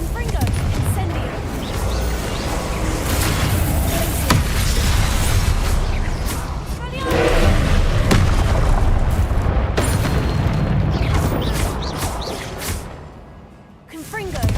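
Confringo and Incendio spell blasts in Hogwarts Legacy: repeated booming bursts and fiery whooshes rolling on and off for about fifteen seconds, with a voice talking over the loud, busy game sound.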